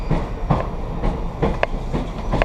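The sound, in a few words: Amtrak train riding on rails near busy junction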